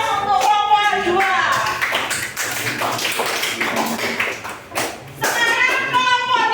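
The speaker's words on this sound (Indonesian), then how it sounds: "Beri aplaus untuk kelompok 2." A classroom group of children claps for a presenting team, a dense run of hand claps and taps going on throughout with children's voices talking over it.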